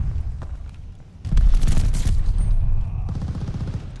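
A G-43 rifle fired in Call of Duty: Vanguard, a burst of loud, close shots with booming reports and ringing tails, following quieter battle ambience.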